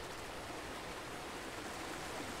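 A video game waterfall pours in a steady, unbroken rush of water, dense and hissing like a stream, moderately quiet with no voices.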